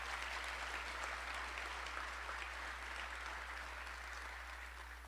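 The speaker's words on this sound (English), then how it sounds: "let's at least give them a huge round of applause for our healthcare heroes" Large audience applauding healthcare heroes at a city's State of the City address, a steady, fairly distant wash of clapping that holds evenly throughout and tapers slightly at the end.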